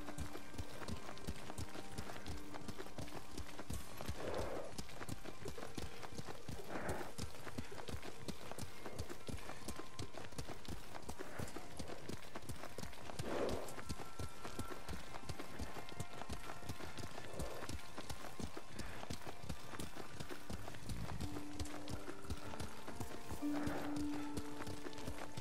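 Horse hooves from the video game Ghost of Tsushima, a rapid rhythmic clip-clop of galloping that runs steadily throughout, with an occasional faint snort or whinny and brief voices in the background.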